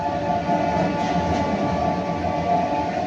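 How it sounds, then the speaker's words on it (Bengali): A passenger train on the Ranaghat–Durgapur–Bardhaman line pulls into a station with a steady, loud rolling rumble and a faint high hum throughout. No one speaks. "আমাদের ট্রেন ঢুকছে পরবর্তী স্টেশন"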